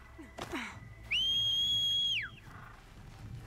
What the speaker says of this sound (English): Why do you keep whistling at me?